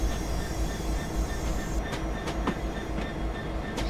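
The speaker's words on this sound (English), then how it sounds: "Can see there's our train going through the siding at this moment in time." A Class 66 diesel freight locomotive rolls through a siding in Train Simulator 2017, its steady engine rumble and rail noise filling the scene with a few sharp wheel clicks over joints, continuous and fairly loud.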